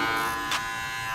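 Cordless hair detailer clippers in a barbershop give off a steady, close electric buzz with a rich humming tone, broken by one brief brighter swell partway through.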